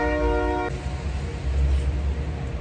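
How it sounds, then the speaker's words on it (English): A train departs a small-town station: a horn toot with steady harmonic tones opens, then a continuous low rumble of rolling cars carries on, fairly loud and close. "Oh, there's the train. It's leaving right now. It's leaving the station."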